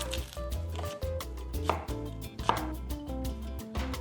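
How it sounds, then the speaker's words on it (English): A knife chops onions in quick, regular strikes on a cutting board, close and crisp, over steady background music. "now I'm gonna cut the onions, throw it in first"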